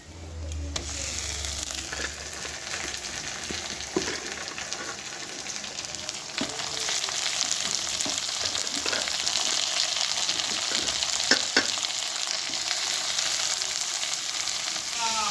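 Squeezed, drained snake gourd fries in a wok with a loud, steady sizzle that swells after the first second and holds throughout, broken by occasional stirring clicks and scrapes.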